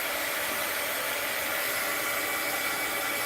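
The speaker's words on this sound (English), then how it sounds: "Let's hit it with the heat gun again." A heat gun blows hot air in a steady, loud broadband whoosh at close range, an unbroken airflow hiss with no voices, used while drying a gunky layer on a doll art project.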